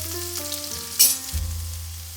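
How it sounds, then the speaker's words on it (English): Cumin seeds and onions frying in hot oil in a kadai on medium flame, a close, steady sizzle that swells briefly with a sharp crackle as they hit the oil. "Frying the onions is the longest part of this recipe."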